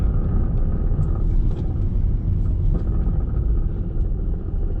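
Steady low rumble of road and engine noise inside a Toyota Supra cruising on a freeway, loud and continuous with no talking.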